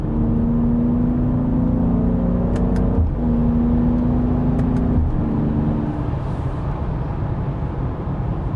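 Steady engine hum from inside the cabin of a 2020 Mercedes-AMG GLC43 SUV in 5th gear, with two brief dips as the transmission shifts up, the drone continuing smoothly after each change.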